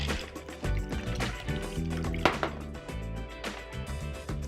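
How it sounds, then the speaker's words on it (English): Cocktail poured from a shaker over a large ice cube, a gentle liquid trickle and splash close up, with soft music underneath. "And then you pour this over a nice size ice cube."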